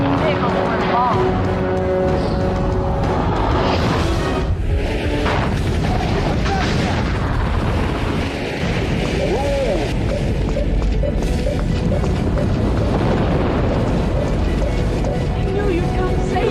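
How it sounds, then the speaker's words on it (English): Explosions in a PlayStation video game set at a vehicle fire on an interstate give deep booms and rumbling over a sustained noisy roar, with people talking over them. "There has been yet another explosion."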